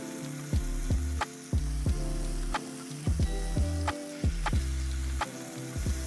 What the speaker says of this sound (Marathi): आपले टिक्के आपण आता पॅनवर टाकलेत